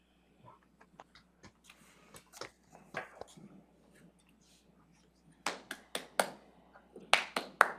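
A couple of people clap in a county commissioners' board meeting room, sparse close handclaps in short bursts with gaps between them, louder clusters near the end.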